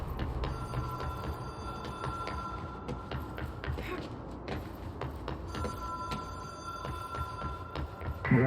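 A telephone rings in the video game Control, a sustained electronic ringing tone with pulsing repeats over a dense, droning ambient hum and scattered clicks.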